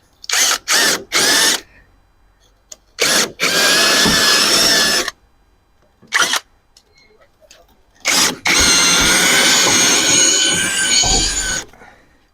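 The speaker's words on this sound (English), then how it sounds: "So I've put a wire wheel on my drill." A power drill whirs in short bursts, then in two longer runs of grinding, scratchy buzzing as a wire wheel scours a car's front strut area, close and loud.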